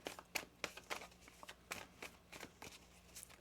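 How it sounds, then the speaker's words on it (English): Tarot cards being shuffled by hand: a quick run of crisp riffling and slapping bursts, close and fairly quiet, with no talking. "One more shuffle here."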